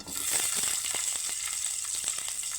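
Halved onion pieces fry in hot mustard oil, giving a steady, close, bright sizzle with faint crackles throughout.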